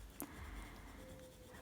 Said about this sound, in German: Ich male hier wirklich mit kaum Druck, lege ganz wenig Farbe aufs Papier